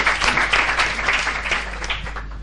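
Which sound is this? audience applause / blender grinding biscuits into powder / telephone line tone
audience applause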